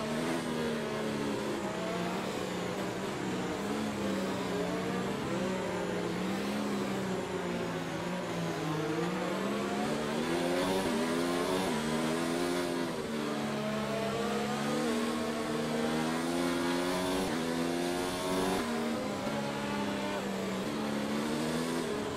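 An F2 race car engine in a racing video game drones and revs continuously, its pitch rising and falling through gear changes as the car laps, loud and steady throughout.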